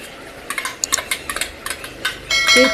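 Garlic and chili paste stirred into a pan of cooking ridge gourd and colocasia leaf vegetable curry, with a run of quick scraping and clinking utensil strikes that builds into a louder, steady sizzle near the end.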